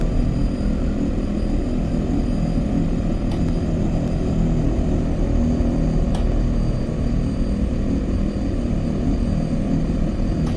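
Steady, loud drone of the propeller engines on an OV-10 Bronco in a VR flight game, a continuous broadband roar with no breaks and no talking.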